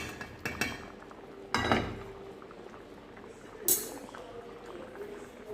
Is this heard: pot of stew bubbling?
yes